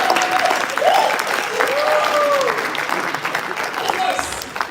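Conference audience applauding, a dense steady patter of many hands clapping that fills the room, with a few voices and cheers mixed in over the clapping.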